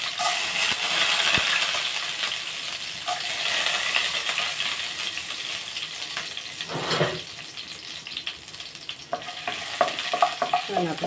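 Chana dal is added to a hot pan for coconut chutney, sizzling steadily in oil with a soft rattle and scraping of the spoon throughout.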